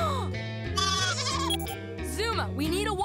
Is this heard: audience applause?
no